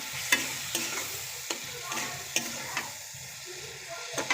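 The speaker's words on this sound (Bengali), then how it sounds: "মাছগুলো একটু কষাই নেব।" Fish being stir-fried with spices in a pan, with a steady sizzle and repeated sharp scraping strokes of a spatula at an irregular rhythm, close and moderately loud, no voices.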